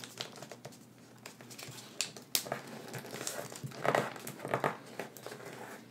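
Sheet of paper creased and folded while shaping an origami dragonfly: close, steady crinkling and rustling with sharper crackles of the crease being pressed down, no voices.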